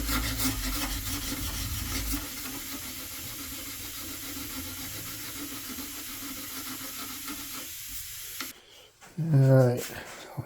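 Hand sawing through the broken wooden neck of an Orangewood acoustic guitar during a repair: steady back-and-forth rasping strokes for about eight seconds, then the cutting stops and a few brief knocks and handling sounds follow.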